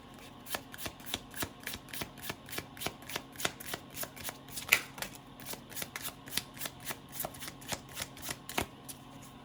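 Tarot cards are shuffled by hand in a steady rhythm of crisp, close riffling slaps, roughly two per second, continuing evenly throughout with no talking.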